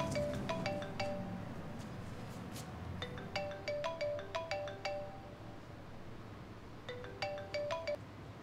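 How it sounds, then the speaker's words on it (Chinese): A melodic mobile phone ringtone plays in three repeated bursts during a therapy massage session, moderately loud and clear over a quiet room background. "我接个电话"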